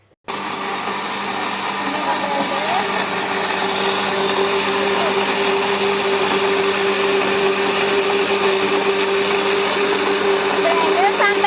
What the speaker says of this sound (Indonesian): Blender sampai halus ya.